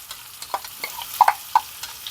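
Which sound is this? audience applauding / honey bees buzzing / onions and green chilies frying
onions and green chilies frying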